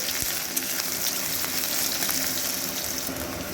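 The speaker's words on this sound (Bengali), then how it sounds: "তেলটা গরম হওয়ার পর এই এর মধ্যে কাঁচা লঙ্কার পেঁয়াজ কুচিটা দিয়ে দিচ্ছি দিয়ে খুব ভালো করে নাড়াচাড়া করে একটু গোল্ডেন করে ভেজে নেবো" Chopped onion and green chilli fry in hot oil with a loud, dense, steady sizzle close by, a few faint clicks of stirring scattered through it.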